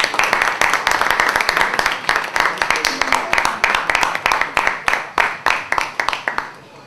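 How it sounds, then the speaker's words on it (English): A book launch audience gives a round of applause, a dense, steady stretch of clapping that thins out and fades toward the end. "For now, a round of applause for Mr. Richard St. John, everybody."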